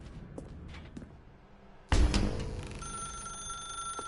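A telephone bell in a video game starts ringing abruptly after a quiet stretch of faint clicks, a loud steady electronic ring holding to the end.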